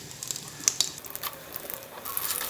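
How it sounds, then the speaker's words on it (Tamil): Potato cutlet balls fry in oil over a medium flame, giving a soft, steady sizzle. Scattered crackles and pops sound fairly faint and close. "இதே மாதிரி நம்ம எல்லா பால்ஸஸும் ஃப்ரை பண்ணி எடுத்துறலாம்"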